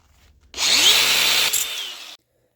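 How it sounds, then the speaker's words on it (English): Angle grinder cutting a knife shape from steel sheet, spinning up with a sharp onset to a loud, steady bright whine for about a second and a half, then cutting off abruptly, close and alone. "I do that with the angle grinder because angle grinder I find is the most efficient way to do it"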